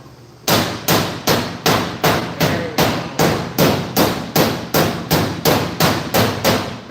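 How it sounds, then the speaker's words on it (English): Hammer tapping hot metal out during welding work, a long steady run of about fifteen loud, close, ringing metallic blows at an even rhythm, with a brief spoken remark. "take my hammer again here. We're going to tap that little hot stuff out right now."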